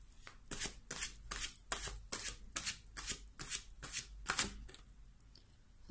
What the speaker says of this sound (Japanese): カードを1枚ずつ取っていきましょうか